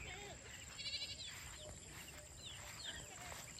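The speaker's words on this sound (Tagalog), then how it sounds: "Kambing everywhere at saka manok." Faint, distant goat bleats over a steady rural outdoor background hiss in La Union, Philippines, with a few brief higher calls scattered through.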